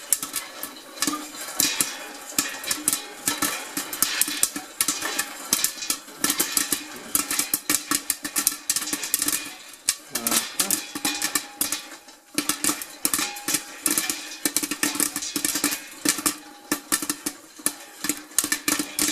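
Rapid, irregular popping crackles densely and continuously as popcorn bursts inside a covered Great Northern Popcorn Company Twister stovetop popper, close and busy with no talking.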